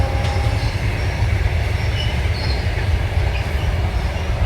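An Indian Railways coal freight train rolls by close and loud, a continuous rumble of wagons with faint wheel squeal and no voices.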